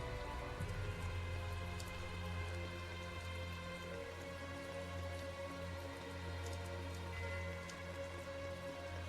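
Steady night rain patters on surfaces in Tales of Zestiria, a soft continuous wash of drops under a low game-music hum, with no talk.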